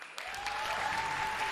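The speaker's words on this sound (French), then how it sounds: "Je vous demande d'applaudir Kayane." An audience applauds guest Kayane, a fighting-game player, at the Pégases 2023 awards show: steady, sustained clapping filling the room, with a faint tone underneath and no talking.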